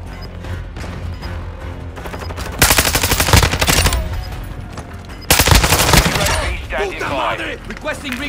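Rapid automatic gunfire in Modern Warfare 2 online combat, long loud bursts of close machine-gun fire, separated by quieter stretches of distant shots and clatter.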